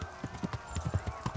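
Horse hooves clip-clop on the ground in Kingdom Come Deliverance, a steady rhythm of about seven or eight close, distinct hoofbeats over faint game ambience.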